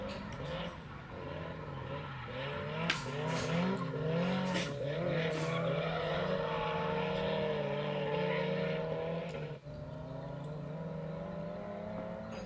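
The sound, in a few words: two drift cars running through a course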